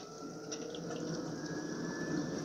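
Kaizo waterfall spray booth with its exhaust fan running, a steady loud whooshing, jet-like roar with a faint rising whine that builds slightly in intensity, alone without talk.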